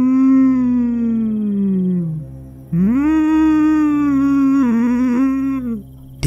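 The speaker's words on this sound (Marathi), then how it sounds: "तसं तो अजून मोठमोठ्यान गुरगुराक लागलो।" Long, drawn-out howling from a dog or wolf, two sustained wavering howls with a brief pause between, loud and close, heard alone with no talk, as eerie background in a Marathi horror story set in a cremation ground at night.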